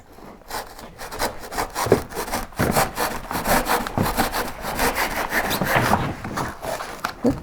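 A handsaw cuts wood during construction of an insulation door for a wood-fired kiln, giving rapid, steady rasping strokes that carry on close and loud throughout with no talk.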